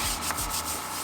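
Brush scrubbing a car tire during a wheel and tire cleaning, giving rough rhythmic rubbing strokes, close and steady with no talk.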